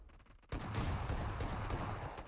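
Rapid bursts of P90 submachine-gun fire in a PUBG Mobile esports match, a dense crackling volley that starts abruptly and keeps rattling without pause, loud and close.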